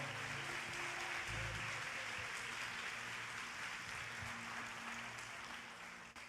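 A church congregation applauds throughout, a steady wash of many hands clapping at moderate volume with faint low tones underneath, fading slightly at the end.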